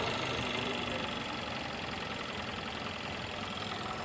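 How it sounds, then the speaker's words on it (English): A car engine idles steadily with the coolant temperature sensor unplugged, a continuous mid-pitched hum with light knocking vibration and no clear change in level over the few seconds. "So it idled up just like last time, and idles back down again."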